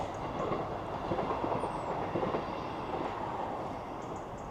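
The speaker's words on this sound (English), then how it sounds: "can you see the train there going across?" A train rumbles steadily past nearby as it crosses a bridge, a continuous broad roar with faint rhythmic clatter and a brief high squeal, with no voices.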